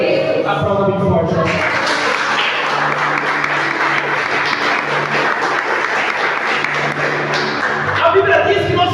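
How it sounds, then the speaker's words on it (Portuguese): A church congregation claps loudly together in a dense, sustained burst of applause that fills nearly the whole stretch, with a preacher's voice briefly heard at the start and end. "Aplauda bem forte."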